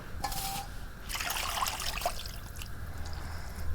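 Raw broiler chicken pieces are washed indoors with filtered water, with soft splashing and trickling at a quiet level in two short bursts.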